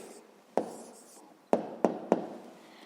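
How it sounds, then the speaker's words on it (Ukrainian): Pen on paper writing out a math answer, a soft scratchy stroke with a few sharp taps as marks land, close and quiet, with no talk. "Ну що ж, записуємо тоді відповідь."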